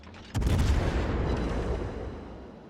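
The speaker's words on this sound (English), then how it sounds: "Now the Montana is shooting back, that's a shame, and that hurt quite a bit." A Montana battleship fires its main guns in World of Warships: a single heavy, booming salvo hits hard and then rumbles and fades slowly.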